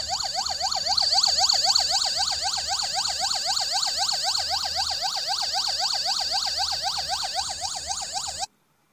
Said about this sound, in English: police siren.